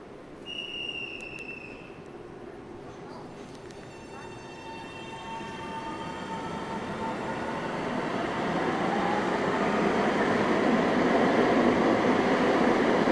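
An Ottawa OC Transpo LRT train pulls out of a station, its rumble and rising electric whine swelling steadily over about thirteen seconds, with a brief high beep near the start and ambient station noise.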